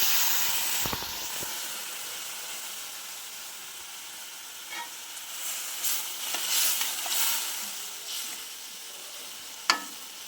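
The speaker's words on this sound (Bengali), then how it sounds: "এবার আমার ভাজা হয়ে গেছে, আমি জল দিয়ে দিলাম।" Water poured into a pan of frying vegetables for shukto hisses and sizzles quietly, a steady soft spitting with a few sharper crackles and bursts of steam.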